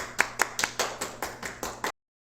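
A church congregation in Toronto welcomes a missionary with claps: about eight evenly spaced claps in a quick, steady rhythm, close and clear, then sudden silence.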